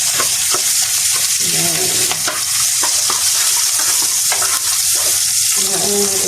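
Onion fries in a pan and gets stirred, with a loud constant sizzle broken by repeated scraping strokes of a utensil against the pan, close up, and a short spoken word.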